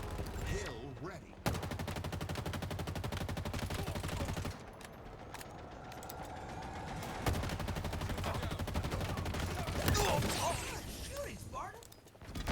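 Dense bursts of automatic gunfire from a shooter video game match, loud and sustained with rapid rhythmic cracks and occasional pauses, mixed with game effects and a voice talking over it.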